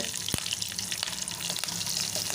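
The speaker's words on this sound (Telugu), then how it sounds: "చిన్నగా కట్ చేసి పెట్టుకున్న ఉల్లిగడ్డ ఈ ఉల్లిగడ్డ కొంచెం ఆయిల్లో ఫ్రై అయిన తర్వాత" Chopped onion sizzles in hot oil with curry leaves and green chilies for an amaranth curry, a steady close crackling hiss with a few sharp pops and faint stirring, no talk.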